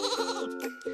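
Sheep bleating loudly and close, a wavering nasal bleat that breaks and then resumes briefly, with no talk over it.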